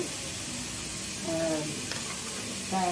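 Ground masala paste sautéing in a pan for Tamil-style mutton kulambu gives a steady, soft hiss throughout, with a few faint tonal sounds rising briefly over it.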